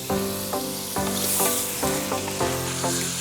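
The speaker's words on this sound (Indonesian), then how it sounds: "Lalu masukkan ikan toman goreng." Fried toman fish going into a pan of fragrant spiced sauce with water: loud, close sizzling and frying with repeated stirring strokes at a steady rhythm, no voices.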